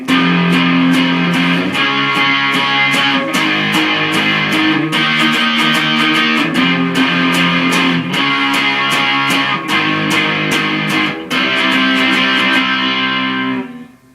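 Distorted electric guitar power chords chug loudly through a chorus, strummed in steady rhythmic bursts with chord changes, played alone and ending with a short ringing fade.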